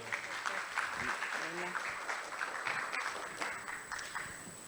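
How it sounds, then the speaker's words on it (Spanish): Audience applause at a nutrition conference, a fairly faint steady wash of clapping, with a steady high tone and a brief voice underneath. "De nuevo, otro fuerte aplauso"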